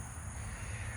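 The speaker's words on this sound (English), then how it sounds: "if you could hear that chirp in the background, that's Mama Mockingbird" A mother mockingbird calling near her nest, a harsh cawing bird call repeated steadily over a constant low background hum, fairly close by.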